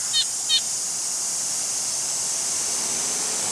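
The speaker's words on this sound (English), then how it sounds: "That was a weird little bird noise." Two quick, high chirping bird calls ring out near the start in a garden, short and distinct over a steady hiss of outdoor background, then only ambient noise follows.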